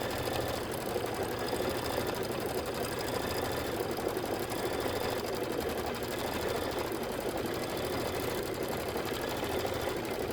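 Continuous quilting stitches on a sewing machine hum and rattle evenly at a moderate level throughout, with no pauses and no voices.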